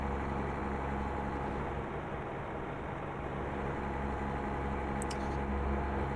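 A truck runs on cruise control in the American Truck Simulator video game, its engine holding a constant, loud low drone throughout, with one faint click near the end.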